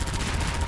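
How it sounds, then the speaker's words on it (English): Rapid chain gun fire in the Half-Life 2 video game, a dense, fast rattle of shots in one short, loud, continuous burst. "Seems to use chain gun when you're close to it rather than rockets"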